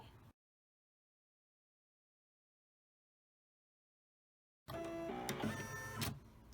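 Embroidery machine stitching out a rectangle cord keeper design, its steady mechanical whirring and rhythmic needle chatter starting after a long silence and running loud and close to the end, with no talk.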